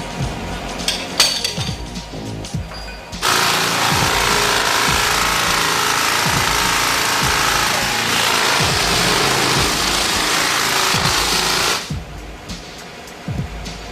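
A sander grinds steadily against a car body panel near chrome trim for about nine seconds, a loud continuous abrasive whir with faint knocks and handling noises before and after.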